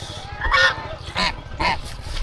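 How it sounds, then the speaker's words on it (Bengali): A goose honks about three times in a loud, nasal sequence at close range, with a low hum underneath. "এটা রাজহাঁস"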